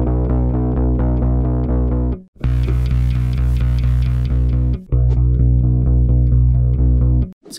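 Distorted guitar chords in an indie rock production, with effects applied to the high end, strum in a steady rhythm, loud and alone, cutting out briefly twice between phrases.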